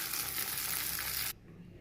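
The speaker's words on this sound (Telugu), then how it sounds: "ఇప్పుడు ఈ పచ్చట్లో పోపు పెట్టేస్తున్నా" Tempering of dried red chillies, curry leaves and asafoetida sizzles in hot oil for a tomato mint chutney, a loud, bright hiss that cuts off abruptly about two-thirds through, leaving a quiet room.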